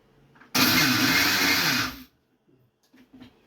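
A kitchen mixer grinder powders dried prawns for chutney powder: one loud, steady whir lasting about a second and a half that cuts off abruptly, followed by quiet with faint clinks.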